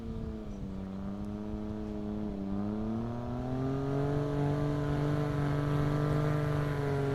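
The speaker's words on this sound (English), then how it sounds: "It's got a Yamaha 998 turbo. That's why it sounds so cool, so different." A brand-new STOL airplane fitted with a turbocharged Yamaha 998 engine taxis at an airshow, its steady engine drone rising slightly in pitch and growing louder as it nears.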